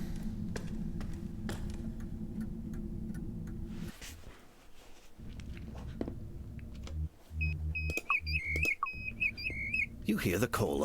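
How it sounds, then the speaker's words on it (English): A plover's call in the Colossal Cave Reimagined video game: a string of short, high, whistled chirps in a quick stuttering pattern over low cave ambience and soft clicks, heard after a stretch of low rumble. "You hear the call of a plover."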